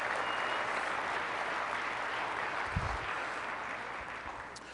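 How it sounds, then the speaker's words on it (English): Steady applause from a conference keynote crowd fills the room, continuous clapping that fades slightly toward the end. "let's give them a round of applause"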